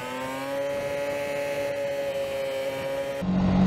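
A 2022 Ducati Panigale V4 cruises in sixth gear at around 70 mph and 6,000 rpm on a parade lap at Spa. It makes a steady, sustained engine drone with clear harmonic tones and constant wind noise, and there is a louder shift at the end.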